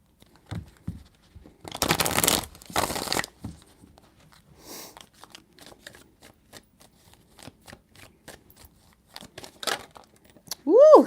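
A deck of tarot cards is shuffled up close: crisp riffling bursts, then a scatter of lighter card slaps and flicks, with brief talk in between.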